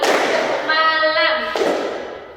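A group claps once or twice in the tepuk malam clapping game, producing muffled, thudding claps alongside a close, loud voice.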